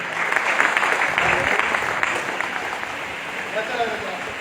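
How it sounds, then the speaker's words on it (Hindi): An audience at a network marketing gathering claps steadily for a guest's father, a dense, continuous burst of applause that slowly tapers. "तो फिर से जोड़ो ताली हमारे अनिशा के पिताजी के लिए"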